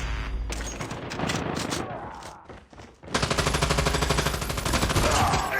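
Gunfire in Call of Duty: rapid bursts of automatic weapon fire, loud and close, with a short lull before a dense, sustained machine-gun volley.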